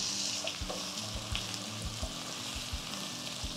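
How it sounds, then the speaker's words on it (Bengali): Chopped onions, already turned translucent, and potato pieces fry together in a pan for a snail curry, giving a steady close sizzle with soft low knocks and bumps from stirring throughout. "পেঁয়াজ আর আলুটা একসাথেই ভেজে নেব।"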